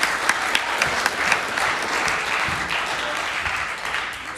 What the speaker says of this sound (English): another round of applause for our awesome singers